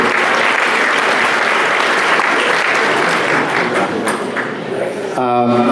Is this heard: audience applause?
yes